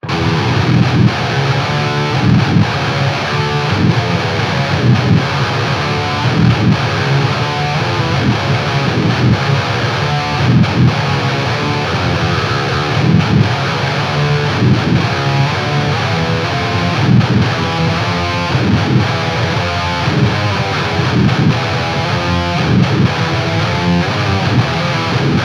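An 8-string electric guitar with hip shot locking tuners and an Evertune bridge, tuned to drop E, plays a dense, loud, distorted riff with chugging low notes throughout, with no talking.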